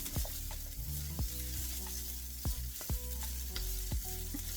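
Sausage and vegetables stir-frying in a pan over medium-low heat, a constant close sizzle broken by repeated clanks and scrapes of a utensil against the pan, with no talk.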